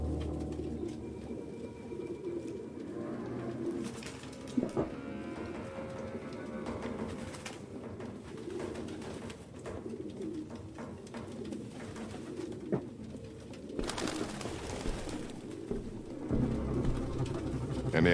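Pigeons cooing in a video game apartment crowded with the birds, a steady soft murmur of coos and rustling throughout, with brief spoken lines over it.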